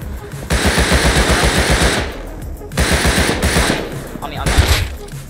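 AK rifle fire in the console edition of the game Rust, loud sustained automatic bursts in two long strings with a shorter burst at the end, close and dominant, with faint voices under it.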